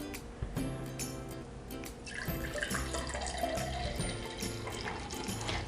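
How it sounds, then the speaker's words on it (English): Apple and orange juice pours from a Breville JE98XL juicer into its jug, a soft trickling and dripping stream under a low steady motor hum. "the clear part of the juice is pouring out"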